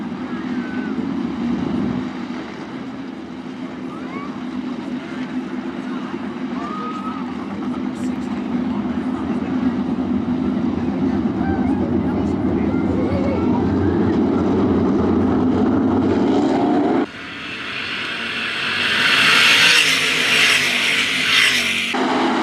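Engines of 305 sprint cars roaring as they race at Attica Raceway Park dirt track, a steady loud droning pack of engines that swells and shifts near the end, with an announcer talking over it.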